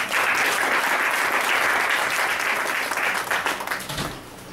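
A church congregation at a night vigil breaks into loud, sustained applause that fills the room, with dense clapping that slowly thins out toward the end.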